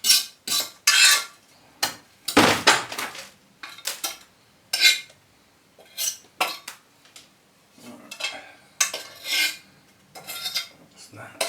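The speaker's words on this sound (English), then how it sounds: "Scrape around the pot." A tool scraping around the inside of a bonsai pot while a beech tree is repotted: repeated short, close scrapes and gritty rasps in irregular bursts with quiet gaps between them, no talking.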